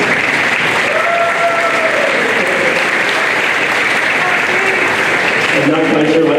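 An audience claps steadily throughout a high school awards ceremony, a dense, sustained round of applause from a sizable crowd indoors.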